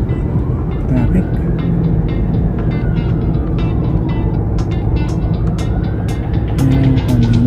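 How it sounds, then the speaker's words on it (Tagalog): Road traffic in Riyadh, heard as a steady, loud rumble of passing vehicles with engine hum and a few tonal whines, while people talk over it. "Traffic."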